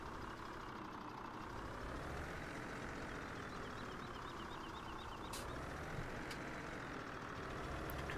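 Truck engine in Farming Simulator 17 running steadily with a low rumbling drone that slowly rises and falls in pitch, reversing beeps faintly repeating over it, continuous and alone.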